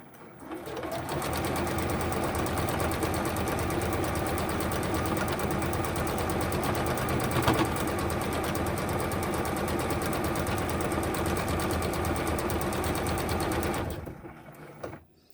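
A sewing machine stitches a double row along the end of a fabric face mask, running in one continuous, steady whir for most of the stretch before stopping near the end.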